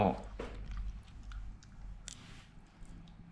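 Someone chewing a mouthful of egg cooked with chili and oregano, soft wet mastication sounds close to the mic at a moderate level with faint background noise.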